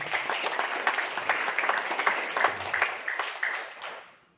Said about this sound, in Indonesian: Aplaus Bapak Ibu.